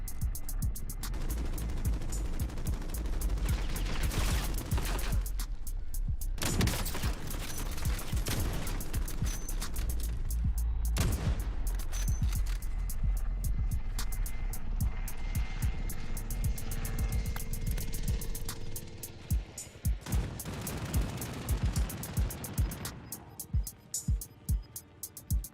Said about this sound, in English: Shooting at somebody.